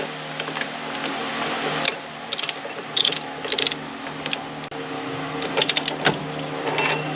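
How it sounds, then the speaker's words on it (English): A torque ratchet tightening bolts on a 1998 Toyota Camry rear wheel bearing, close bursts of rapid metallic clicking repeated in short spurts with pauses between them. "And now I'm going to torque them."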